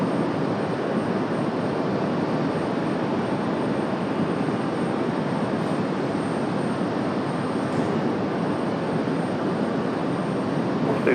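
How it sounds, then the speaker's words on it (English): A Boeing 737 jet arriving from Boston at Raleigh-Durham airport gives a steady, broadband roar that holds loud and even throughout, with no talk over it. "Here comes our 737"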